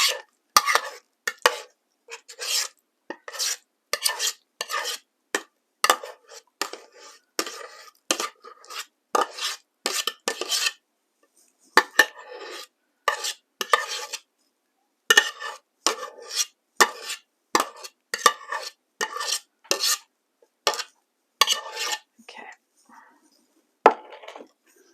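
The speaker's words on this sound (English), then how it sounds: "Grab a spatula and just spread that out on top." Repeated scraping strokes of a spatula spreading topping across a sausage casserole in a dish, steady rhythmic swipes close up with short pauses between.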